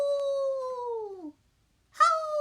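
Two long, clear dog howls, the first sliding downward and fading, then a brief silence before a second, louder howl begins.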